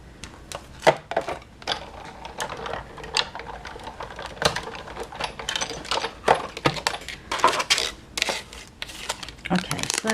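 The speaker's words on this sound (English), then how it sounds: "Okay, so that's all the die cutting." A Big Shot die cutting machine runs cardstock through its rollers, giving a close, busy stretch of irregular clicks, knocks and mechanical rattles with bursts of crinkling.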